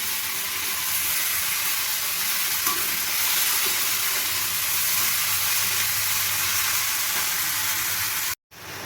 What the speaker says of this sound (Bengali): বাঁধাকপিটা দিয়ে আমি ভালোভাবে নাড়িয়ে নেব।